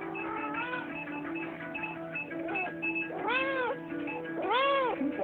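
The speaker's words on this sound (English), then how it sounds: "Here comes my noisy cat." A noisy Persian cat meows indoors several times, with drawn-out, rising and falling cries that grow louder toward the end, close to the listener.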